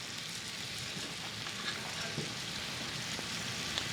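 Steak and shrimp frying in a pan of melted butter while being basted, giving a steady close sizzle with faint crackles and small pops throughout, no talking.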